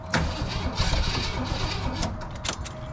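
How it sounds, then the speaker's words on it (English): A 1978 AMC Jeep Wagoneer engine cranks and catches, then runs with a steady, rough mid-pitched rumble and an uneven gallop, its carburetor's accelerator pump reported faulty; close and fairly loud throughout. "Motor's got a gallop in it."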